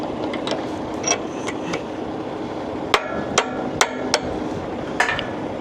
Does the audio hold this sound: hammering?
yes